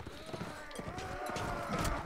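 A horse gallops in the medieval combat game Mount and Blade: Warband, its quick hoofbeats clopping in an uneven run, fairly quiet and mixed with muffled background voices.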